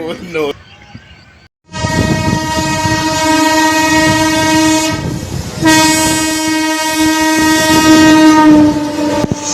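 A train passing close by, loud and sustained, sounding a long blaring horn with the clatter of rail cars underneath, while people talk nearby.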